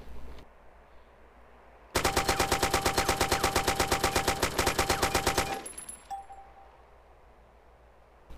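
Rapid automatic AK assault rifle fire in DayZ, a sustained burst of about thirty sharp evenly spaced shots with metallic pings, loud and close, then cut off into a quiet ambient tail.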